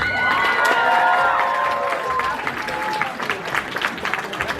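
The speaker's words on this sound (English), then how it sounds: "Can we just get one more round of applause for everyone" Audience applause and cheering for all contestants at a Mister Asia pageant, loud and continuous with whoops and shouts rising early, then the clapping thins and tapers toward the end.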